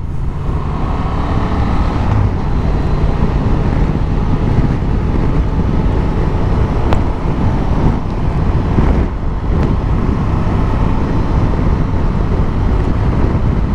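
Loud, steady wind roar buffeting the rider on a Honda XL750 Transalp motorcycle cruising at about 75–80 km/h, a constant low rumble of rushing air with engine drone underneath and no talking.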